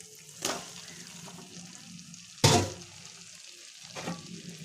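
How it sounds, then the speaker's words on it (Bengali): Potatoes and cauliflower with chili paste sautéing in a pan for a koi fish curry, giving a soft steady sizzle with three sharper stirring scrapes spaced apart, the middle one loudest. "এবার আমি আলু ফুলকপিগুলো দিয়ে আর একটু ভালো করে কষাবো"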